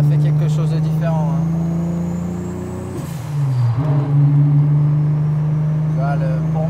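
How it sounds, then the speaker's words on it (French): A tuned Audi RS4 with a turbocharged six-cylinder engine drones steadily and loudly, dips briefly midway with a whoosh, then settles back into its deep even hum. "le bruit du 6 cylindres, oh là là, il est différent"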